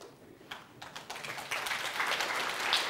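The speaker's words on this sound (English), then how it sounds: "once you get the applause, you're done." Audience applause rising after a speaker's talk in a lecture hall, starting as scattered claps and swelling into steady clapping that continues to the end, moderately distant.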